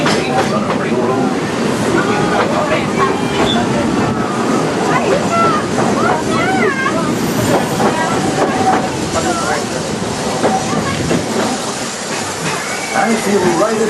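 Magic Kingdom steam train at Walt Disney World rolling steadily along its rails through wooded wilderness scenery, a continuous close rumble and clatter running under a narrator's voice throughout.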